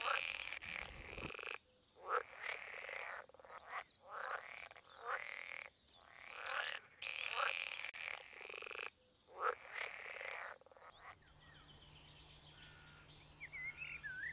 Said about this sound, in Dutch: De groene kikker, de gewone pad, de bruine kikker en de kamsalamander zijn algemeen voorkomende amfibiesoorten.